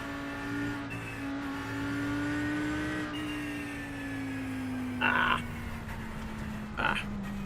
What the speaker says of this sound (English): I know the engine sounds are glorious